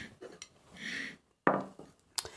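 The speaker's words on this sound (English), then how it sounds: "Now I want to grease my pans." Metal pans clatter and clink as they are handled before greasing in a home kitchen, a few close, separate knocks and scrapes with short quiet gaps, no talking.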